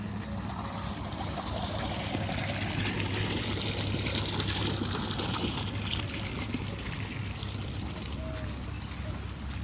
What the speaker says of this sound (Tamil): இப்போ தண்ணி ஓடிட்டுருக்கு.